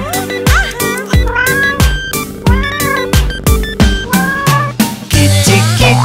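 A cat meowing in a children's nursery rhyme song, repeated loud meows in a steady rhythm over bright musical accompaniment.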